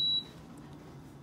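A Power XL cooker gives one short, clear electronic beep as a setting is chosen, followed by a quiet low background hum.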